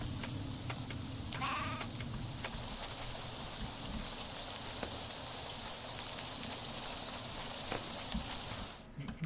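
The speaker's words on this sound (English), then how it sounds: "I feel as though it's raining a lot more than usual on my world." Steady rain falls in the Craft The World video game, an even hiss that runs throughout and cuts off at the very end, with a faint bleat-like call early on.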